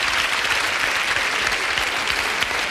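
A stand-up comedy audience at a 1992 show applauds in a dense, steady burst of clapping that fills the moment, with no voices on top.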